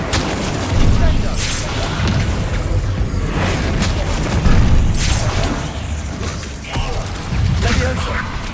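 Spell blasts and combat in Hogwarts Legacy boom and crackle in a dense, loud wash, with heavy bursts near one, five and eight seconds over constant rumbling clatter, while a voice calls out.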